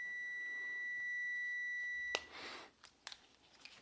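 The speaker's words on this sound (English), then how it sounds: "And the timer going." Steady electronic kitchen timer tone holding for about two seconds, then cut off by a clatter and scattered rustling knocks, fairly faint and with no talking.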